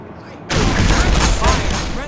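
A loud burst of sustained automatic gunfire erupts suddenly in Black Mesa and continues without pause, close and dense, after a brief quiet moment.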